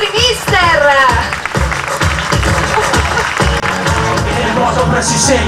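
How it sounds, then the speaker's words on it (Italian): A crowd at an outdoor music festival on Lake Garda in Torri del Benaco claps and cheers for the coaches, steady and dense applause filling the whole stretch, with voices mixed into the clapping. "Un applauso ai nostri mister!"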